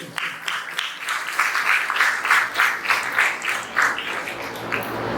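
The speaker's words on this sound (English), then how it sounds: "I request all of you to give a big round of applause to all the teachers" At a school parents' orientation, an audience claps for the teachers in uneven pulsing bursts, moderately loud and a little rhythmic, with a low hum underneath throughout.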